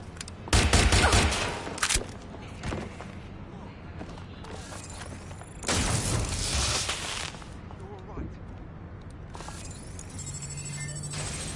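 Gunfire in Watch Dogs Legion rattles in rapid automatic bursts, a loud volley early and another midway, with sharp single cracks and mechanical clicks between under a steady game soundscape.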